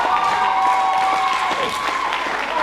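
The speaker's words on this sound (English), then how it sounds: "Listen to this crowd, Olsen. Absolutely come alive." Pro wrestling crowd at an EPW show roaring and clapping in an arena, a brief dense burst of cheering with a commentator's voice over it.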